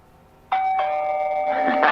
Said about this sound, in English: Jeff is going to abuse that doorbell